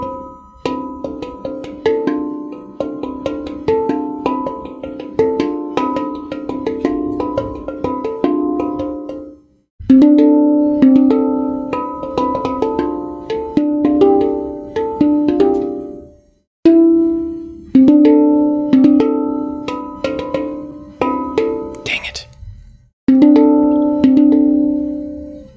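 A space drum played with a continuous flow of ringing metallic notes in quick melodic runs, loud and close, overlapping tones sustaining, broken by a few brief pauses.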